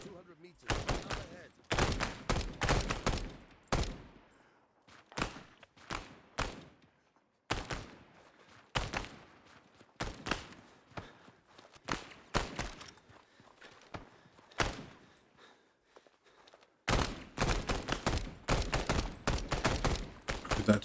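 Bursts of rifle fire in an Arma 3 firefight against a military administration building on Altis, sharp cracks arriving in clusters with short pauses, some shots distant and softer, loud volleys near the start and end.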